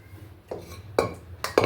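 Mutton pieces dropped into a metal pressure cooker for mutton biryani, giving a few sharp metallic clinks and clatters at intervals, close and fairly loud, with no talking.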